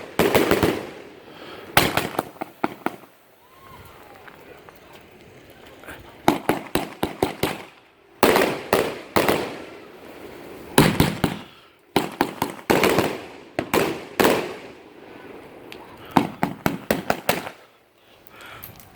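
A 230-shot Monster Truck firework cake fires in rapid volleys of sharp pops and bursts, clusters of shots separated by short gaps, loud and fairly close outdoors on the Fourth of July.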